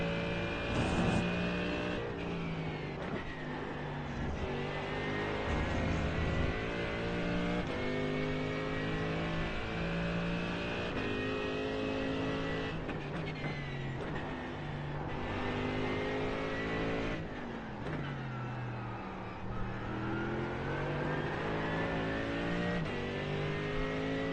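A Mercedes AMG GT race car engine roars continuously around Road Atlanta in the iRacing sim, pitch climbing through the revs and dropping sharply at each gear shift, loud and close with no talking.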